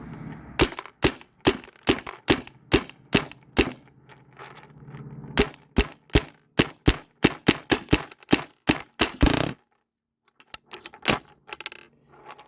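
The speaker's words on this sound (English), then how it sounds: "So yeah, I'm just gonna fire this." A Tippmann A5 paintball marker fitted with new springs fires a rapid string of sharp, loud pops, close by, in uneven bursts for about nine seconds before stopping. A few softer clicks follow.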